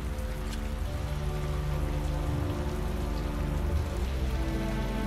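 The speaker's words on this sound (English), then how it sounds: "I have a feeling that we are supposed to make it rain" Steady rain pours continuously through a scene in the puzzle platformer video game Typoman, a dense even patter of drops with no voices over it.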